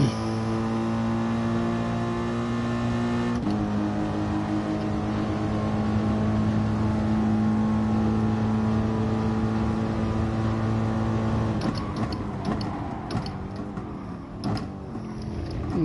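Race car engines in GT Sport drone steadily with strong harmonic tones, a sustained mid-race roar that shifts pitch around three seconds and turns rougher and busier near the end as cars brake and jostle.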